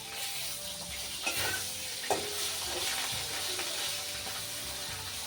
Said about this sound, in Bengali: সবজিটা ভাজা হয়ে গেল নামিয়ে নিই